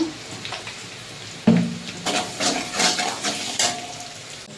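Chopped garlic sizzles in hot oil with black cumin seeds in a pan, a steady soft crackle with a sudden louder hiss as it is stirred.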